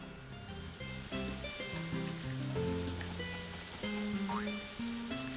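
Steady rain hisses in the farming video game Harvest Moon: A Wonderful Life, a constant soft wash beneath louder melodic game music.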